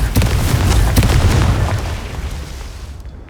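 A loud Confringo blasting spell explodes in Hogwarts Legacy, a deep booming burst that rumbles heavily and then fades over a few seconds.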